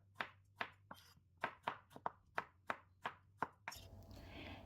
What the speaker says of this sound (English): In this particular dish, I normally like to dice my onions.